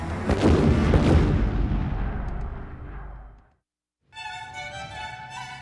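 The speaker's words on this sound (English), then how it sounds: "the sounds of bombs and cannons replaced the cheers of fans across Europe" Wartime bombs and cannon fire: a loud, dense run of overlapping booms and blasts rolling on for about three seconds, fading out, then a short silence before a steady bright ringing tone.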